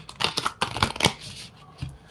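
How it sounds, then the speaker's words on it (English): Tarot cards shuffled by hand during a reading, a quick run of crisp riffling flutters and soft slaps close up, then a brief pause and one last muffled tap. "Let me shuffle this one more time."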